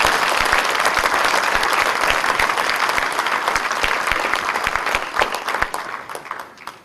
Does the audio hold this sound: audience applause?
yes